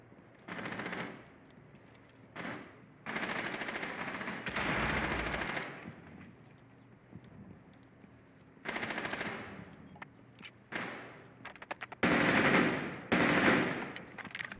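Bursts of automatic gunfire from a first-person shooter game, several rapid rattling volleys of varying length separated by short quiet gaps, loud and close.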